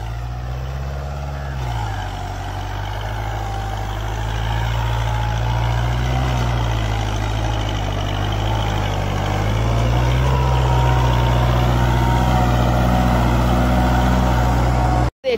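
Kubota MU 4501 4x4 tractor engine running steadily with a tiller under heavy load in a field of sugarcane residue, a loud continuous low diesel drone with slight pitch shifts, close and unbroken throughout.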